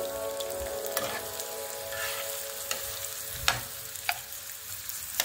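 Food browning in a pan until golden for chiche barak, a steady close sizzle and crackle throughout with occasional sharp pops and stirring knocks.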